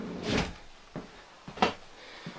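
Storage drawer beneath a Fleetwood RV dinette opening or closing: a louder rolling slide, then a few short knocks and a sharper clack as it moves and stops, close up in a quiet interior.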